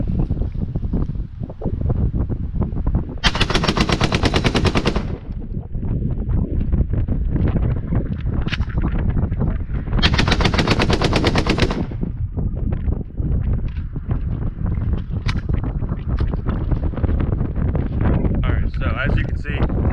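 An AK-47 rifle bump fired outdoors: two loud bursts of rapid gunfire, each lasting about two seconds, amid constant wind noise, with people talking in between.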